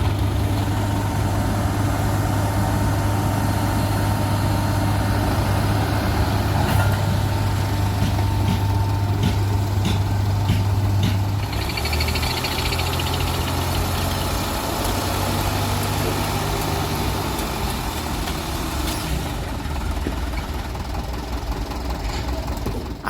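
Two trucks idling and rumbling nearby at a construction site where soil is being hauled, a heavy low engine drone that shifts pitch midway.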